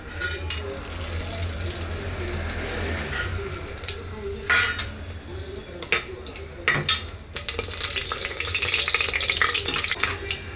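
Whole spices frying in hot oil and ghee for a chicken gravy, a steady sizzle broken by sharp clinks of a utensil against the pan and bursts of crackling, close and fairly loud.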